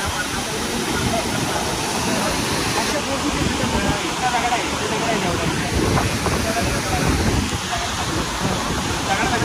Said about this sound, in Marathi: धबधबा लयच जोरात आहे